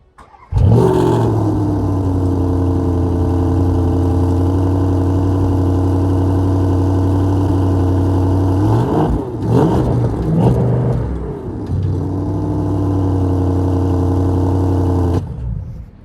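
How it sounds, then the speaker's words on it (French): A Porsche Panamera GTS biturbo V8 fires up with a sharp start, then settles into a loud, steady, deep idle and rises in a few rev blips before idling again and shutting off, heard alone without talk. "Je vais la démarrer pour vous, vous allez comprendre également."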